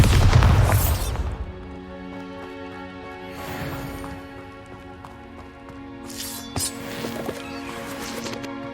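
A Bombarda explosion spell cast in the Hogwarts Legacy video game opens with a loud, booming blast that rumbles and fades over a second. Further softer bursts and impacts follow over a sustained musical drone.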